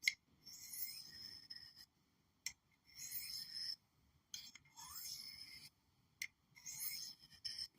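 Pocket knife blade drawn across a Lansky square hone on a Case jack knife, giving quiet, repeated scraping strokes in bursts of about a second with short pauses between, close and faint with no talking.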